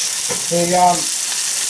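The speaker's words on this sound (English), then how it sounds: "you can hear the sizzling of the fish" Dover sole on the bone sizzling as it pan fries, a steady hiss throughout with a brief spoken word partly over it.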